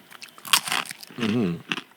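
Someone bites into a crisp fortune cookie, giving a few sharp crunches up close, with a brief voiced sound in the middle.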